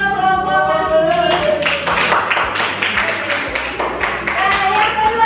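Classroom group of students claps after a presentation in a teacher-training session, brisk scattered hand claps at close range mixed with voices and background chatter.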